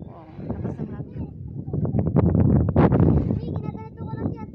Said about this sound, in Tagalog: So, ang lakas ng hangin dito sa loob ng Dika.